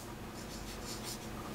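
Marker writing on a board during a math lesson, a soft continuous scratch with short rhythmic strokes, faint and steady with no talk.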